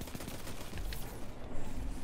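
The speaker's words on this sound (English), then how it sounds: "Just keep shooting, keep shooting, keep shooting," Rapid gunfire in the video game Destiny 2, a dense continuous rattle of shots with low booms underneath, steady and moderately loud.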